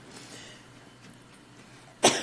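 A single sudden sneeze bursts out near the end after quiet room tone, short and loud.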